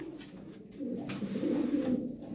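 Pigeons in a loft coo softly, a low throaty rolling call swelling in the second half, fairly faint and with no voices over it.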